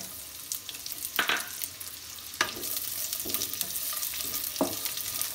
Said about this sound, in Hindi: इसको हल्के से फ्राई करना है घी में